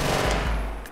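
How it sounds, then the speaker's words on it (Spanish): Rapid automatic weapon fire from a video game, driven by an autoclicker, comes as a loud, dense burst of shots lasting under a second with no voices. "Con autoclicker, uno puede disparar todos los disparos de una."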